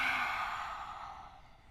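A long, breathy exhale through an open mouth during a vinyasa yoga flow, soft and close, fading steadily over under two seconds.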